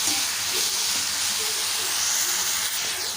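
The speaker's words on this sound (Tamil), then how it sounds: "கத்திரிக்காய் வந்து ஒரு ஒரு நிமிஷம் மட்டும் நல்லா அந்த நல்லெண்ணெயிலே வந்து நல்லா வதங்கட்டும்" Eggplant sautéing in sesame oil in a pan for a Tamil-style side dish, giving a steady, bright frying hiss that holds evenly at close range throughout.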